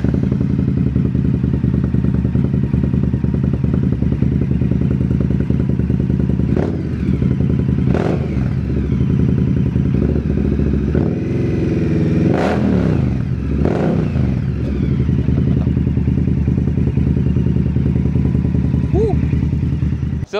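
Indian motorcycles, including Chieftain and Springfield models, idle with a steady loud engine rumble while a few sharp rev blips and clatters rise above it, under continuous nearby talk.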